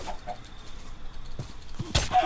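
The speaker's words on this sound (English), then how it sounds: "Oh, a chicken." Chicken clucking in RLCraft, the Minecraft modpack, a few short faint clucks spaced out amid quiet game noise, followed by a sharper louder burst near the end.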